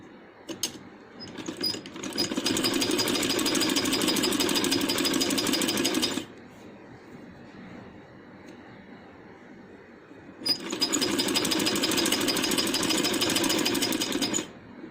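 A sewing machine stitches a strip onto a handmade baby boy's dress in two runs of fast, rattling mechanical whirring, each lasting several seconds, with a quieter pause between them.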